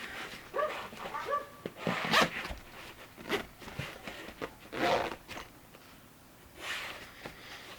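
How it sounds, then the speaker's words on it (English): A felt carrying case for a compact Oliso mini iron is zipped shut in several short, raspy pulls. The quick bursts come at close range and fairly quietly, separated by brief pauses. "It zips right up."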